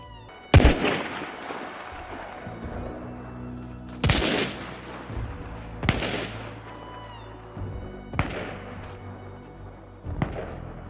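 Gunfire in the video game Hunt: Showdown: about five heavy, widely spaced shots, each a sharp loud crack followed by a long, rumbling echoing tail.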